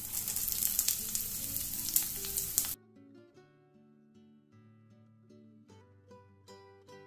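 Onion frying with garlic and ginger in oil crackles and sizzles loudly for a few seconds, then cuts off abruptly as soft background music takes over.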